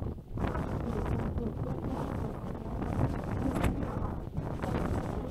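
Strong wind blows outdoors at a lava-field desert recreation area in New Mexico, a loud, steady roar of buffeting gusts against the microphone that never lets up.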